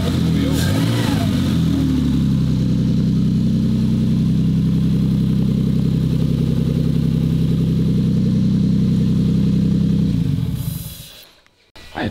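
A turbocharged 2JZ engine idles close by with a steady, loud, deep rumble for about ten seconds before cutting off abruptly.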